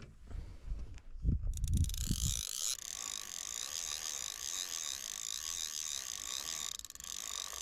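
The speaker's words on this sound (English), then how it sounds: "My drag is really tightened right now, and it's still taking line." Fishing reel with a tightly set drag giving line to a 24 kg sturgeon hooked while carp fishing; a steady, fast mechanical clicking runs on continuously after a few heavy low thumps at the start.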